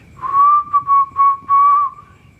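A person whistles a steady high tone in several short bursts, with brief gaps between them, close and clear over faint background noise.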